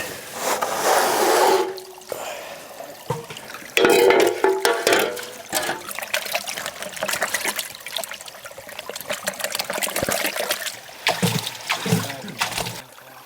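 Water swirls and sloshes in a blue plastic gold pan during a panning cleanup, close and fairly loud, with splashing bursts and trickling between swirls.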